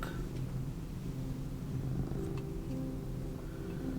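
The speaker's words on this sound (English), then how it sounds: "Can you guys hear Beanie's purrs?" A cat purrs close by in a low, steady rhythmic rumble, continuous throughout with faint background noise.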